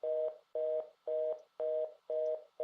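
Telephone tone in the Nancy Drew game Haunting of Castle Malloy, sounding as five or six evenly spaced steady bursts with short gaps between them, clear and alone without any talk.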